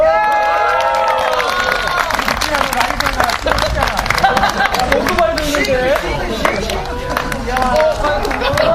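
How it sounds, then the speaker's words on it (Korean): Applause and cheering from a crowd at an autumn school sports day, a continuous loud wash of clapping with shouts and chatter mixed in, close and busy throughout. "박수"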